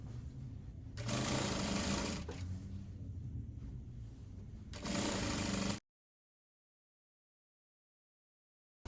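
Sewing machine stitching a dress seam with a 1 inch allowance, a close steady whir in two bursts of running, faster near the start and end, then stopping into silence.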